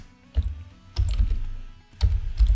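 Computer keyboard keys clack in three short clusters of typing, close and fairly loud, with brief pauses between bursts.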